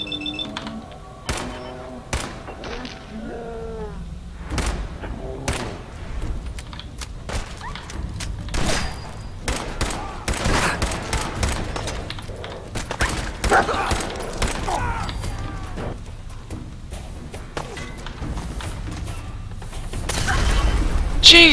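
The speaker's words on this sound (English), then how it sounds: "They don't make those machine gun turrets like they used to." Machine gun turret fire in Fallout 4, scattered sharp rattling shots and metallic thunks spread through the stretch at moderate loudness, mixed with other combat noise and occasional talk.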